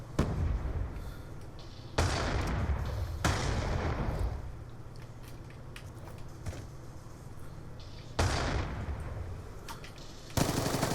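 Bursts of automatic gunfire from the Black Ops 2 video game during a one-on-one match, loud sustained volleys around two, three to four, eight to nine and at the very end, with quieter game noise between.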